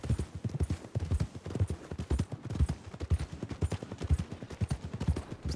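Steady clip-clop of horse hooves at a trot in the video game Red Dead Redemption, close and rhythmic with loud repeated strikes throughout and no voices.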